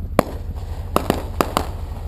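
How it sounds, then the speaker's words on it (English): Fireworks set off at a boat dock on Alum Creek in an Ohio state park crack as five sharp, separate bangs at irregular intervals, moderately distant over a low steady background rumble. "I love fireworks, just like everybody else."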